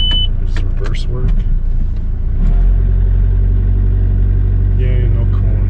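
A 2004 VW Passat TDI diesel with a broken turbo runs loudly at close range, its low engine rumble steady and building, with people talking over it early on.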